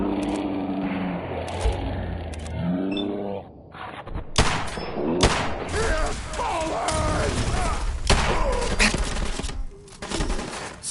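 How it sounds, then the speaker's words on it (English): Gunfire in the video game Fallout 4: loud sharp shots and short bursts crack out in quick succession through the middle of the clip, mixed with in-game voices and mechanical clatter. "Suppressing fire!"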